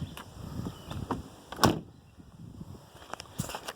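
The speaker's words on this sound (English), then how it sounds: "door shut good." A Mercedes 300SEL 6.3 door shuts once with a single solid thunk, heard close amid quiet background noise and a few faint clicks.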